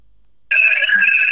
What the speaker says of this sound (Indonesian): Ada yang suara HP-nya bocor guys